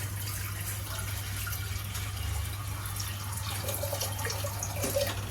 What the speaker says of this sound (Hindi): गैस जलाने के बाद इस कुकर में हम करीब आधा लीटर पानी डालेंगे।